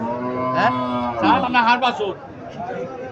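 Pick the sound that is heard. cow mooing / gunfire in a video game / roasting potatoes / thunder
cow mooing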